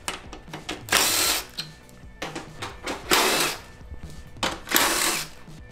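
On a 2015-2021 Subaru WRX, a power tool works a 10 millimeter bolt in short repeated whirring bursts of roughly half a second, separated by quiet pauses, heard close up.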